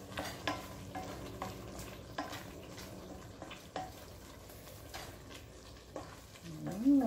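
Jambalaya with green hot pepper being stirred in a sizzling pan, a spoon scraping in repeated strokes over steady frying hiss, with a voice talking briefly at the end.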